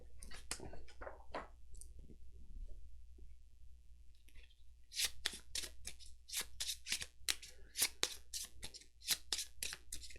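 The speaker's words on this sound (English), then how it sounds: "Shuffle the encounter deck," Arkham Horror encounter deck cards being shuffled close by: a few scattered flicks and taps at first, then a run of quick riffling bursts that crackle sharply in fast succession.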